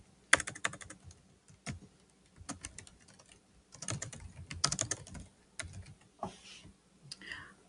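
Keys clatter on a computer keyboard as text is typed in quiet bursts of quick taps separated by short pauses, close and fairly soft, with no talking.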